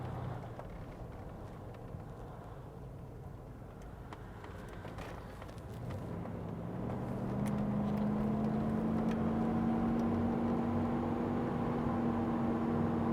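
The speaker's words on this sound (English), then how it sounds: "Going to get it up to about 50, 55 miles an hour here." A 1990 Ford Bronco XLT Eddie Bauer accelerating to about 50 to 55 mph, steady engine drone and road noise rising into a higher sustained whine as speed builds, cabin rumble throughout, no talking.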